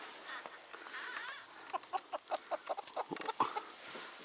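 Hens cluck in a backyard chicken coop, a fairly faint flurry of short, repeated clucks and calls that grows busier partway through, with some soft background noise and no clear talk.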